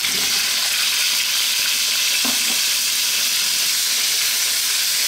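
Potatoes sizzle and crackle loudly in hot oil in a pan for a potato and eggplant curry. The dense, steady frying hiss is close and continuous, with a brief stir partway through.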